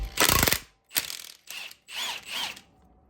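A ratchet wrench backs a large bolt off a Harley-Davidson Dyna motorcycle during an overhaul, giving five close, crisp bursts of clicking with short pauses between them.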